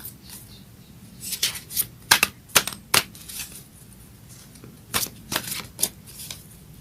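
Fairy tarot cards being shuffled by hand, sounding as quick crisp riffles and snaps in irregular bursts, close and clear with no talking.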